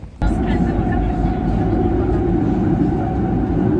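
A metro train sets off abruptly and settles into a loud, steady low rumble and roar, heard close by and continuing without a break.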